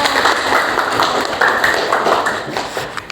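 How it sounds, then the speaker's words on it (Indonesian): A classroom group claps for students, a dense steady patter of many hands with scattered louder taps, close and fairly loud, with faint voices underneath. "Kasih tepuk tangan dong"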